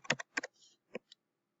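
A few quick keystrokes on a computer keyboard type a short search, sharp close clicks in small clusters against silence, then stopping, no voices.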